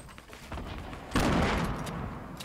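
Grenade explosions in Fortnite: a faint, muffled rumble of distant blasts, with one heavier burst midway.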